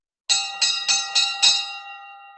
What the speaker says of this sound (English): Then he began ringing the bell.